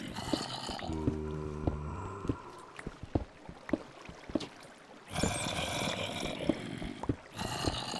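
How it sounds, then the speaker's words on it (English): Flowing water in the Minecraft modpack Hexxit, a steady rushing hiss that fades in and out across the clip, with clicks and game noises scattered over it and a brief harmonic tone early on. "Alright, so I hear the water."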